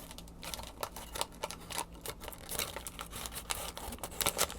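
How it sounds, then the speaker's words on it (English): Paper cupcake liner crinkled and squeezed up close, a quiet run of crisp, irregular crackles and rustles continuing without a break. "It's almost like what you would put a cupcake in, you know, the cupcake holder."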